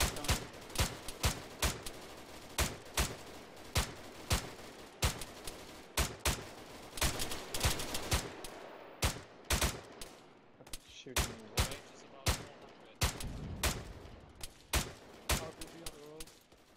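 Gunfire in a combat setting: sharp single shots crack out roughly once or twice a second, with quicker clustered bursts midway. The shots are loud and close, and faint voices are heard beneath them.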